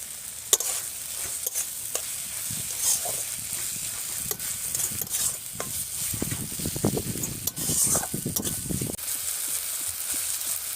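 Spice paste fries in goat fat in a pan while a spatula stirs and scrapes through it, a soft steady sizzle broken by louder scraping bursts, with no voices.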